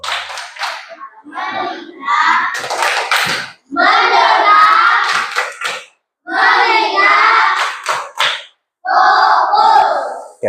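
A classroom of children performs the rhythmic 'tepuk fokus' clapping game, chanting loudly in unison in bursts punctuated by sharp, patterned hand claps, with brief pauses between phrases.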